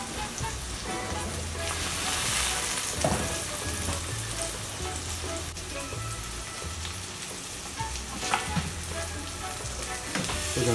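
Pineapple slices sizzle steadily in a grill pan, a loud continuous frying hiss with occasional crackles and brief utensil scrapes, no talking.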